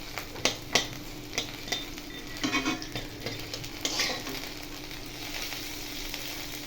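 Peanuts fry in a pan while a metal spatula stirs them, sharp scraping knocks breaking over a soft, continuous sizzle, close and without speech.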